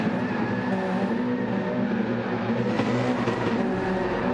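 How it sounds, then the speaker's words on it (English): GT3 race cars at the Nürburgring in a racing game, a steady loud engine drone with revving and cars passing, continuous throughout with no talk. "let's burn some tyres out"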